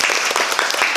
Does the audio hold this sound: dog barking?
no